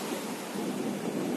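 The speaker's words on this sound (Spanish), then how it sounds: "el mar está bravo, entre comillas" Rough sea at San Luis, Senegal, a dense, steady roar of surf and crashing waves close to the microphone, with wind noise mixed in and no voices.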